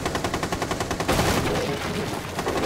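Rapid rhythmic bursts of automatic rifle gunfire in Rainbow Six Siege, a regular string of shots, a louder burst in the middle, then continuing fire at moderate level, no one speaking.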